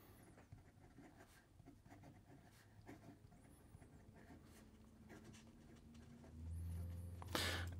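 Conklin Mark Twain fountain pen with an Omniflex nib scratching on paper, soft intermittent strokes and light taps, close and quiet, ending with a louder bump.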